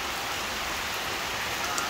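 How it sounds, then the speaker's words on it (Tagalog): Heavy rain pours steadily on a countryside house, a dense, even hiss that stays loud and unbroken throughout with no voices. "kita nyo naman yung lakas ng ulan, no?"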